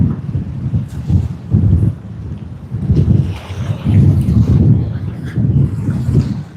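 A Jetstar Boeing 787 Dreamliner lands at Sydney Airport as a deep, rumbling roar that swells and fades in waves, mixed with gusty wind buffeting the microphone.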